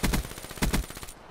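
VMP submachine gun fire from Call of Duty Black Ops III rattles out in two quick bursts of rapid shots, loud and close, with no voices over it.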